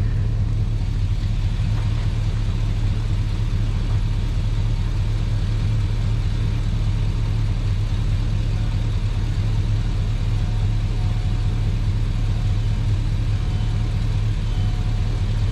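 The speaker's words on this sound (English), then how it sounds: "go ahead and crank it" A project car's engine idles with a steady, loud low rumble that holds evenly throughout, with no talk over it.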